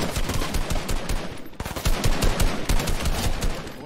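Rapid automatic gunfire from the video game Fortnite crackles in dense, continuous bursts, loud and close, with a brief pause before the shooting resumes.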